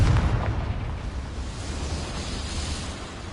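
A Confringo blasting spell exploding in the video game Hogwarts Legacy, heard as one loud burst at the start that fades into a long, rumbling noisy tail.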